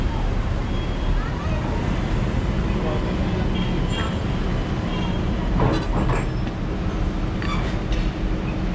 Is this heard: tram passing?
yes